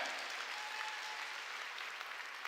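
A church congregation claps at a sermon, a steady, dense applause that holds evenly throughout with no voices over it.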